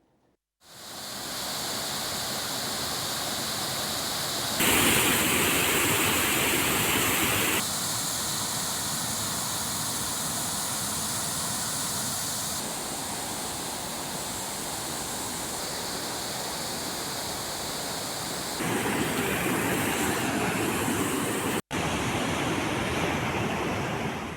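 Floodwater surges at Bhiman waterfall in a hill area after heavy rain, a steady, loud, broadband roar of rushing torrent that swells at moments and carries on with no voices.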